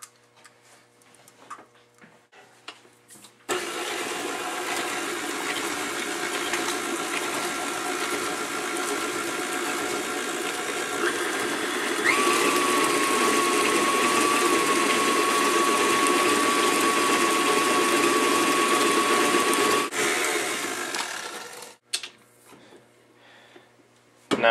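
Electric mixer beating an egg into creamed honey lemon cookie dough, a steady whirring motor hum that starts abruptly, grows louder and rougher partway through, then cuts off, leaving quiet kitchen sounds.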